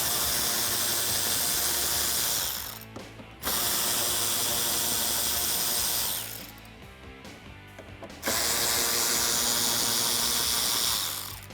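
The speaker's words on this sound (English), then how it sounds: "use my 7mm socket to remove these 2 screws in the wheel well that holds the lower lip onto the vehicle" A hand ratchet with a 7mm socket backs out screws in the wheel well of a 2018-2020 Ford F-150, giving loud continuous clicking in long runs broken by two short pauses, with no talk.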